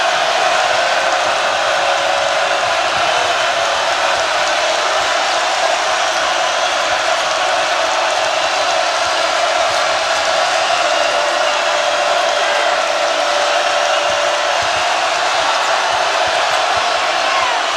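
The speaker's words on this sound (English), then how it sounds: "Listen to this crowd, Dino." Loud, continuous roar of a basketball arena crowd cheering at a 2016 Nebraska vs Clemson college game, a steady dense wall of voices and noise held throughout with no talk over it.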